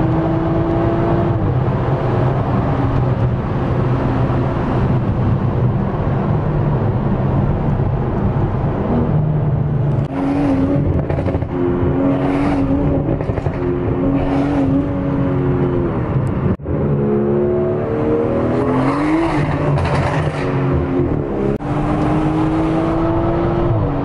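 Tuned BMW 340i with a JB4 running E85 fuel accelerates hard, its engine droning loudly and climbing in pitch through several gear changes, heard from inside with no talking.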